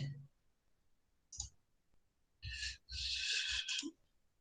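Short bursts of clicking keystrokes sound close by on a keyboard, a brief tap and then a denser run of typing, separated by near silence.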